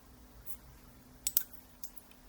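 A computer mouse clicks a few times, sharp and faint, close by in a quiet room with no talking.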